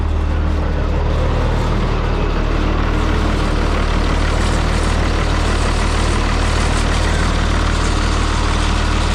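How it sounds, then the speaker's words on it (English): A Hercules engine fitted with a muffler idles at an auction, a loud, steady, deep rumble that holds unbroken from start to finish. "I do like the way these Hercules sound. They just sound like they're mean, even with a muffler on them."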